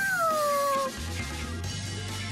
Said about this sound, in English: Hey look, it's a cat.